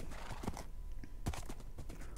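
A horse in the video game Minecraft gives off hoof clip-clops and short snorting sounds, with a few distinct thuds standing out over a busy game background, fairly close.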